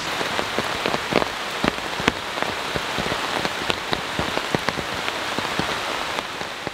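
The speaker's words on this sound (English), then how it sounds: "So last night, unfortunately, no strong storms came into the area. So what we're dealing with is a moderate rainfall" Moderate rain patters steadily on a Stansport Mesh Star Lite tent at night, a dense continuous hiss with frequent sharper drop taps hitting the fabric, close and even throughout with no voices.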